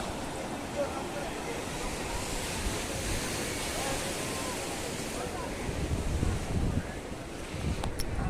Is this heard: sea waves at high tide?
yes